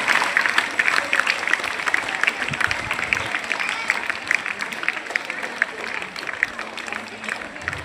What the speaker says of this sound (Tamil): பயங்கர கரகோஷம் கொடுக்குறீங்க